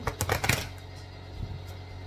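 Cards are shuffled in a quick riffle of dense crisp flutters close to the mic during a tarot reading, followed by a couple of softer taps, with no speech.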